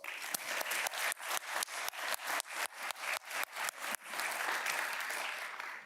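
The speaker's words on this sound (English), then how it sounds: "Now, give them all a round of applause." An audience at a league foundation ceremony applauds its Future Famers honorees, with dense, sustained clapping that is fairly loud and close and rolls on without pause.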